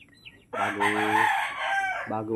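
A bulik rooster crows loudly up close, one long drawn-out call after a faint cluck, followed by the start of another crow.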